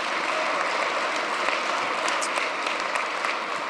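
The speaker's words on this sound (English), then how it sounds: "so let's give them a round of applause." An audience at a county inauguration ceremony gives a steady, dense round of applause, many hands clapping evenly throughout with no pause or talk.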